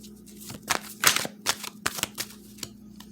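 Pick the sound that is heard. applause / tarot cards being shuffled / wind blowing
tarot cards being shuffled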